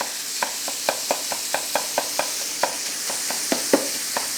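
Taco meat spread across a hot pan fries with a steady bright sizzle, broken by a regular series of sharp scraping stirs from a utensil, close and fairly loud, with no talking.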